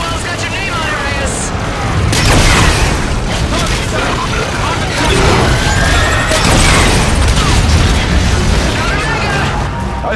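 Airstrike gun-run explosions in the Call of Duty: Infinite Warfare campaign, heavy rolling booms and dense blasts that swell and surge over ten seconds, with game voices talking underneath.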